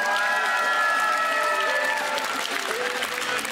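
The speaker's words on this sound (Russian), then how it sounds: "Ваши аплодисменты" Dense, continuous audience applause greets a Latin dance couple being presented at the Minsk Open Championship, with music playing underneath and crowd cheering mixed in.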